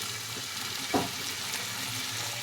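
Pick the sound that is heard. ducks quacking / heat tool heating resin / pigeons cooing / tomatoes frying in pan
tomatoes frying in pan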